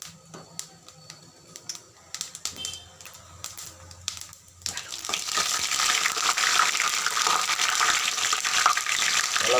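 Fennel seeds, cinnamon, cloves, dried red chillies and a bay leaf crackle and sizzle in hot oil, sparse pops at first, then a steady loud hiss of frying.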